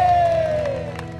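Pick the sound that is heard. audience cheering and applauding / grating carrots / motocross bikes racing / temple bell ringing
audience cheering and applauding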